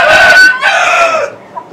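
Tiger chickens on a poultry farm give a loud, close crowing call followed by shorter clucks, the calls trailing off into quieter clucking.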